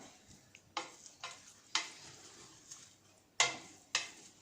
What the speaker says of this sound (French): on mélange. Comme ça, les huiles se mélangent entre elles. L'oignon, la viande.